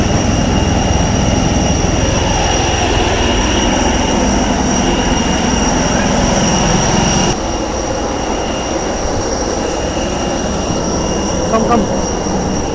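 Loud, steady roar of jet engines fills an IndiGo airliner cabin during landing on a Vijayawada to Delhi flight, a continuous broadband drone that shifts slightly in level partway through.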